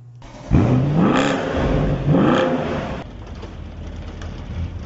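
A Mercedes-Benz SL 63 AMG pulls away with two rising engine revs as it accelerates through the gears, loud and close at first, then settling into a fainter steady rumble as it moves off.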